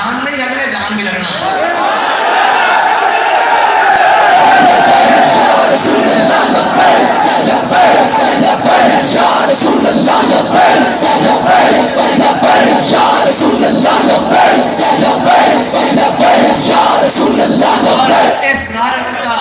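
A large crowd at a Lahore religious gathering for an Urs at Data Sahab shouts and chants a slogan in loud, sustained unison. The roar is close and dense and continues for the whole stretch, with voices rising and falling together.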